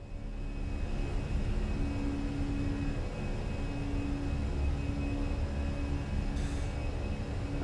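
Steady, loud cockpit rumble of a Fenix A320 jet accelerating in Microsoft Flight Simulator, a continuous low drone with a faint tone running through it and no talk.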